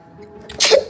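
A single sharp sneeze, close and fairly loud, bursting out after a quiet moment.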